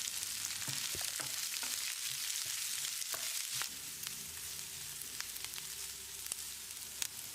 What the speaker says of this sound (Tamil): வெங்காயத்தை லேசாக செவந்து வர்ற அளவுக்கு வதக்கிடலாம்.